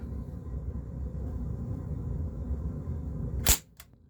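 An Umarex Ruger 10/22 CO2 air rifle fires a single sharp shot near the end, breaking a steady low background hum, with a faint click following.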